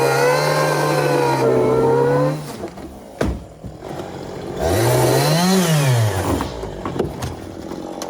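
A chainsaw drones steadily, drops off, then revs up again with rising and falling pitch as it bites through the foam of a Boston Whaler boat.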